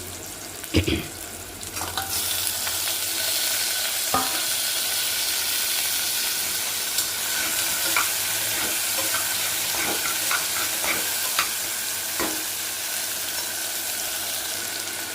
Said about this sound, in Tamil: நல்லா வதக்கிடுங்க ஒரே ஒரு தக்காளி ஆட் பண்ணிக்கலாம்